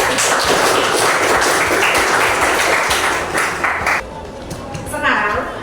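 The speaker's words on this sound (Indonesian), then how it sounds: "Tepuk tangan buat temannya." Classroom of students clapping for a classmate at a junior high school, loud continuous applause close by for about four seconds, then dropping away as a teacher's voice comes in.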